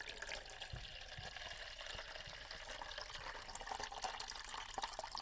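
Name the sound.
water poured into pet water fountain tray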